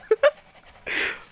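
A dog in the fighting game Guilty Gear Strive gives two short yelps, then pants in a breathy burst, close and fairly loud.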